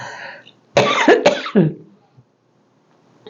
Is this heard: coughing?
yes